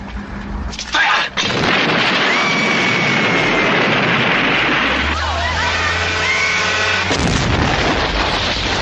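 Cannon fire in a western battle scene: loud booming blasts and a dense roar of explosions, with a short lull and another burst near the end.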